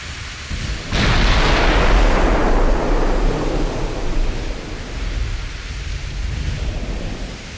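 Fifteen-inch naval guns fire in the warship game Ultimate Admiral Dreadnoughts, a sudden heavy boom that rolls into a long, loud, rumbling roar before slowly easing off.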